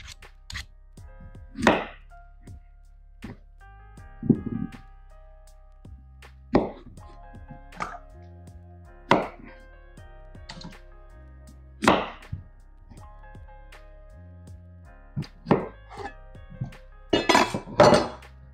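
Kitchen prep sounds while peeling and slicing potatoes: scattered clinks and knocks of a knife and dishes, a few sharp taps of cutting, with faint handling noise between them.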